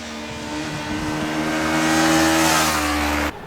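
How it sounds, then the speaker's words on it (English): A Kawasaki Ninja 400 motorcycle engine revs steadily while riding, a loud sustained buzzing drone with climbing pitch and wind rush, cutting off abruptly near the end. "It's such a flexible little engine."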